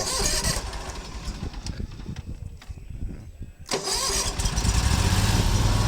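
A Bob Cat 61-inch ZRT zero-turn mower engine cranks after a short quiet pause, then catches and settles into a steady, close idle.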